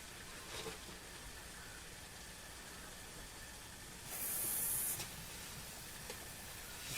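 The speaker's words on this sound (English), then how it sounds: "I'm going to pop some steam in here." Steam hisses into the neck joint of a Martin guitar during a repair, a soft steady spray with a louder, brighter burst midway, close and with no talk.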